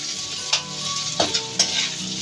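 Hungarian sausage sautéing in about two tablespoons of oil, a steady close sizzle and spatter broken by a few sharp stirring scrapes, with no voices.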